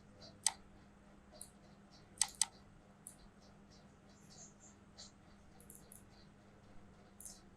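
A few sharp computer mouse clicks in Adobe Illustrator, quiet and close, some single and one quick double click, spaced over a low steady hum.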